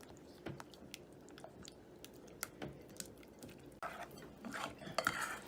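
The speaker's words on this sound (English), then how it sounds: "I'm just going to do a little bit at a time and stir it in." Spoon stirring ingredients into a thick chocolate fudge pecan pie filling in a bowl, with soft scraping and clinking strokes repeated at an irregular pace, close and quiet, with no talking.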